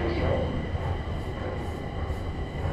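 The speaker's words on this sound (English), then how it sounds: "we're jumping on the next train" Beijing subway train underway, a steady, close rumble of wheels and carriage noise filling the whole stretch with a faint murmur of voices beneath it.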